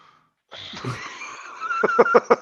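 A single sharp sneeze bursts out after a short silence, followed by rapid rhythmic wheezy laughter or snickering, close and loud.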